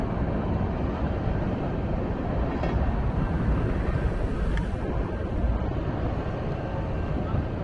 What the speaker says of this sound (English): The big freight train.